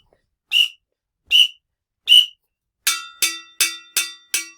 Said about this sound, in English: when I hold up 5 fingers and I blow the whistle 4 times